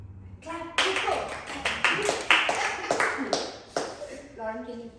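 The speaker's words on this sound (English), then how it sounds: "Clap, people." A small audience clapping in short, uneven bursts, individual claps distinct and close, with voices speaking briefly before and after.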